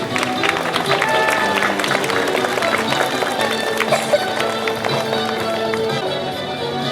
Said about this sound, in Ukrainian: Давайте привітаємо оплесками наших відмінників.